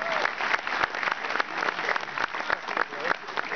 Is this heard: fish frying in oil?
no